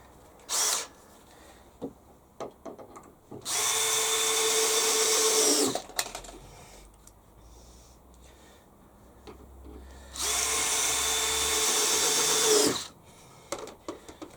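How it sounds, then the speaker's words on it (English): Two long bursts of a high-pitched power drill whirring as screws are driven into a shed extension, with brief clicks and handling noises in the quiet gaps between. "my driver bit falls out the drill chuck."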